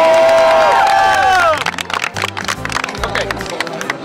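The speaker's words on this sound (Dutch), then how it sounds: "Applaus voor jezelf." Students at a school charity run applaud and cheer, bursts of clapping and excited shouts from a crowd close by, following a bright ringing tone at the start, with crowd babble mixed in.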